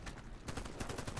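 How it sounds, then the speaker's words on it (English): Gunfire in the video game Warface, rapid automatic bursts rattling off in a steady rhythm, fairly faint and continuous. "They're shooting like there's gangs."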